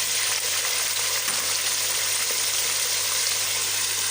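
Beef frying with nihari masala in a pot, a dense, steady hiss of sizzling oil that stays loud and even throughout, close up with no talking.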